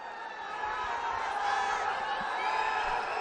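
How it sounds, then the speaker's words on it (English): A crowd at a Pro Wrestling League 2017 bout in Mumbai cheers and chants in a steady, distant roar, swelling slightly and holding without pause. "you could hear the crowd chanting the time as well"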